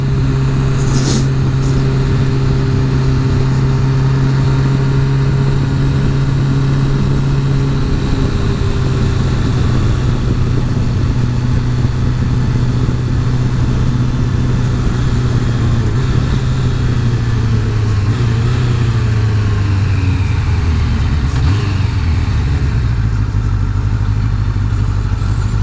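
A motorcycle engine drones steadily while riding, loud and close with wind roar, its pitch dropping and rising as the revs change over the long stretch.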